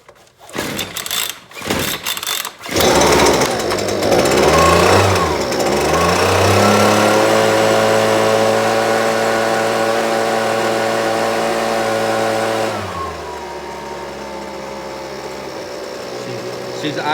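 A Husqvarna 125BV leaf blower starts with a few sputtering pulls, then its small two-stroke engine runs loud and steady at high speed before dropping to a lower, even idle for the last few seconds.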